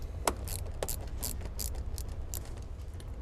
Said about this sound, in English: We will be using that same 10mm, so we'll go ahead and loosen it completely.